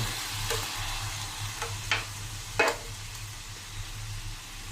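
Pork sizzles on a non-charcoal grill, a steady close crackling hiss with a few sharper pops and stirring scrapes, no voices.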